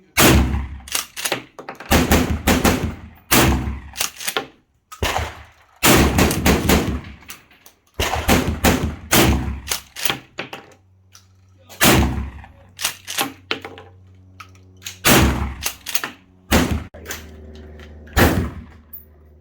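A Remington 870 shotgun fired with a mix of random ammo, a long string of loud booming shots at an irregular pace, some spaced and some in quick pairs, with brief pauses and background rustle between them.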